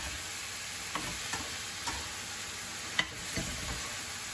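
Brussels sprouts and pork belly stir-fried in a pan with black pepper, a soft steady sizzle broken by several light clinks and scrapes of the utensil against the pan.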